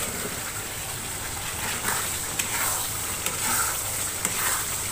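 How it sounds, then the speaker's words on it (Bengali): Eggs are stirred and fried in spiced oil for egg biryani, giving a soft continuous sizzle with a few light scraping stirs and clinks, fairly faint and with no talk. "ডিমগুলো আমি 2 মিনিটের মতো নাড়াচাড়া করব"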